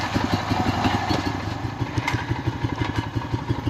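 Honda Rancher ATV engine idling and running in reverse while backing down ramps, a close, steady chugging rumble with a fast, even pulse throughout.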